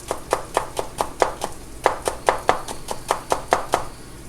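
Knife slicing green onions thinly on a cutting board, a steady run of about seventeen crisp, close chops in an even rhythm with a short pause partway through.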